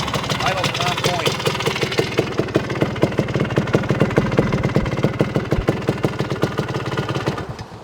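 A 1978 Honda Elsinore CR250 two-stroke motorcycle engine idling steadily, with a rapid, even popping pulse close by throughout.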